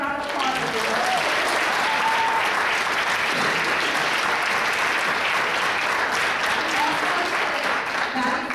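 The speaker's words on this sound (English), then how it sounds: "Let's give a round of applause for you." Sustained audience applause at a school theatre production, a dense wash of clapping from a seated crowd that stays steady and loud throughout, with faint voices mixed underneath.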